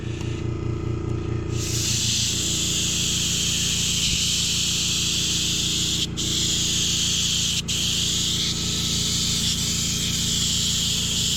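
An airbrush sprays paint onto a vintage Harley Davidson gas tank in a steady, close, sharp hiss that starts after a short pause, with a low compressor hum underneath and two brief cut-offs in the spray.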